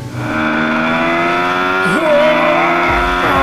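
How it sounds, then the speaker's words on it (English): A BMW S1000XR motorcycle accelerating hard as the throttle is twisted, its engine pitch rising steadily through the gears with a quick dip at a shift, loud and close, wind noise underneath. "you'd sure better hang on when you twist that throttle"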